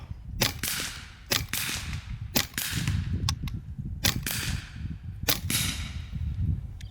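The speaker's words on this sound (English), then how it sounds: "So that was me shooting fast." A Karma Airguns SLS .22 PCP match-grade air rifle is fired rapidly, about seven or eight sharp, close cracks at uneven short intervals over a low, rumbling background.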